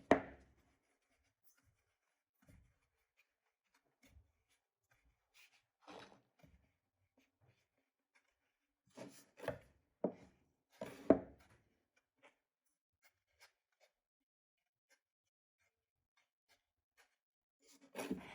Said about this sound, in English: And then cut each log into about a 1/2 inch pieces.